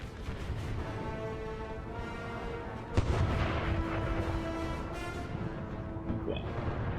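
Union Army artillery rumbles across a Civil War battle in the North & South ACW game, a dense roll of booming cannon fire with one sharp, loud blast midway and sustained crackling volleys after.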